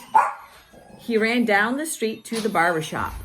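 A dog gives a brief, sharp bark near the start, then a person keeps talking.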